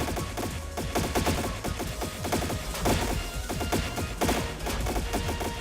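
Gunfire rattles in the video game Trails in the Sky SC as dense, rapid bursts of shots and impacts, loud and continuous throughout.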